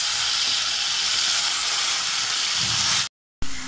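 Two medium-sized chopped tomatoes hit a hot pan, giving a loud, steady hiss and sizzle that runs unbroken, then cuts off abruptly for a moment before resuming.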